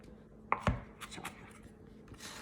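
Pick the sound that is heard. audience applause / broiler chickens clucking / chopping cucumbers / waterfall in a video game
chopping cucumbers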